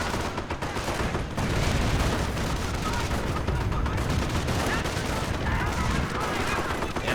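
Strafe run in the World War II strategy game Company of Heroes: a continuous roar of rapid machine-gun fire and explosions, loud and steady throughout, with battlefield chatter underneath.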